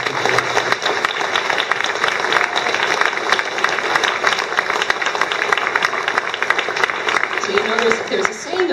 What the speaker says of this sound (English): I just like to ask for a warm round of applause for all the supporters for the YWCA